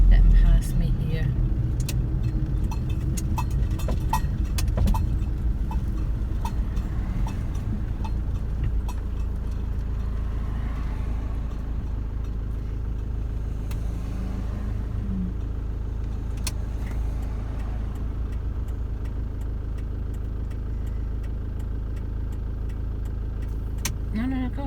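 A car driving steadily along a bumpy road in the Lake District, with a continuous low engine rumble and road noise throughout and occasional rattles and knocks from inside the cabin.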